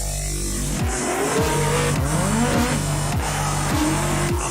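Car engine revving repeatedly through rising and falling gear changes, with tire squeal, loud and steady throughout, like racing footage.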